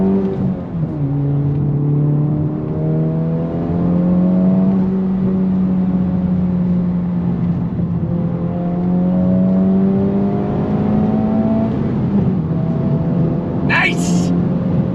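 A Honda Civic Type R FL5 with a titanium exhaust pulls hard on throttle through twisty roads, its engine note droning and rising steadily under a talking occupant, with a brief sharp noise near the end.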